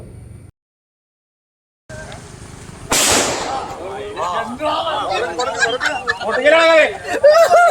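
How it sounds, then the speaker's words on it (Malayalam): A firecracker is set off to drive a wild elephant away from a village area in Kottappady, Kerala: one sharp, loud bang after a brief silence, followed by excited voices and shouting crowd chatter. "ആനയെ തുരത്താൻ പടക്കം പൊട്ടിച്ചപ്പോൾ ആന തിരിഞ്ഞു നിൽക്കുകയായിരുന്നു."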